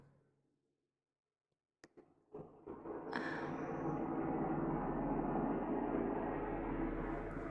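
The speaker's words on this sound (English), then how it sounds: "Where's the plane going in a circle?" A plane passes overhead while circling, a low, steady broadband drone that swells in after a brief quiet stretch and a couple of knocks, then holds at a moderate level to the end.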